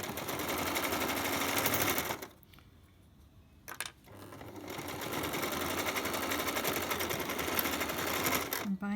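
A sewing machine stitching a washable cotton face mask runs in a fast, loud, close mechanical whir, stops briefly for about a second and a half, then starts up again and keeps running.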